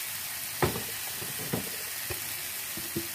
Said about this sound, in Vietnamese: Mình xào cho phần thịt này nó chín nè